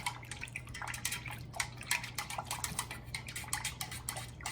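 Melted candle wax from a candle making kit is poured, a continuous faint trickling and dripping with a low steady hum beneath it.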